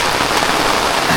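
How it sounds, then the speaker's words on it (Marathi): Heavy evening rain pours in the Konkan countryside, a dense, loud, steady hiss of drops drumming on surfaces with no break. "वाजलेत बरोबर 5 आणि पावसाला जोरदार सुरुवात झाली बघा"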